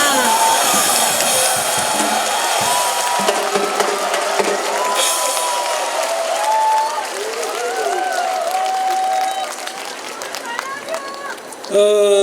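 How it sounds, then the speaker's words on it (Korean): At a Catholic charismatic renewal healing retreat, a large congregation gives a priest loud, sustained welcoming applause mixed with cheering, with musical tones and voices rising through it and a brief louder burst near the end. "여러분 뜨거운 감사와 환영의 박수로 모십니다"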